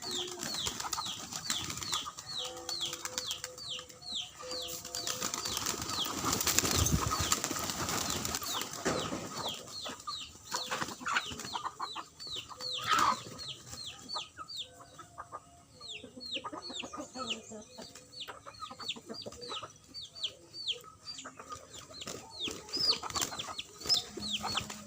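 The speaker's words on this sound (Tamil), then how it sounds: "அந்த புறாக்கள்லாம் பயங்கரமாக பறந்து வருது." A flock of pigeons flies in while chickens cluck and call around a rural farmyard at feeding time, a busy mix of repeated clucks and chirps with occasional wing flutter, fairly close and steady throughout.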